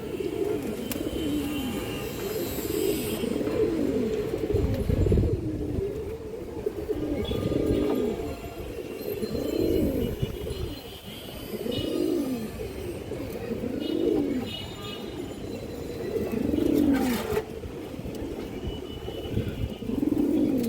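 A pair of silver beji pigeons coo repeatedly close by, low rolling calls rising and falling in a steady rhythm, with faint market chatter and noise behind.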